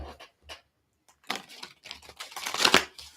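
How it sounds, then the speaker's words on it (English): A deck of tarot cards is shuffled close up in a few quick riffling bursts, soft at first and then a louder, denser flutter of cards near the end. "That was a good shuffle."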